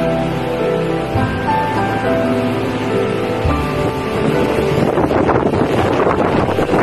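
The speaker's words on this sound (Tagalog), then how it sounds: "Ang lakas talaga ng hangin ngayon" Strong typhoon wind (Signal No. 8) in Hong Kong buffets the microphone in a constant loud roar, gusting harder toward the end, with leaves rustling underneath.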